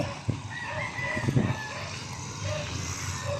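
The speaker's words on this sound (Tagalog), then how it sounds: "Manukan po. Yan ay pag-aari ng Santiago." A rooster crows at a chicken farm in Angat, Bulacan, a short call rising from steady outdoor ambience, moderately distant and without talk.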